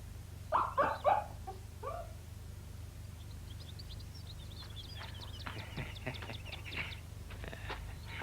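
A dog barks several times in a quick close burst, then quieter yips and whimpers follow over a steady low background hum.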